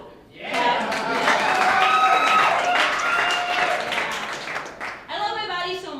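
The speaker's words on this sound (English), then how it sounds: "You can clap." A comedy show audience breaks into applause and cheering that swells quickly and holds loud for several seconds, mixed with crowd voices, before fading as a performer's voice comes back in.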